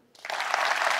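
An audience at a motivational talk for NEET PG students in Delhi breaks into brief applause, starting abruptly and holding steady as a dense burst of clapping.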